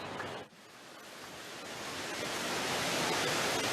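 A steady roar of rushing water from a waterfall on La Réunion, broadband and continuous, swelling slightly louder toward the end, with no voices.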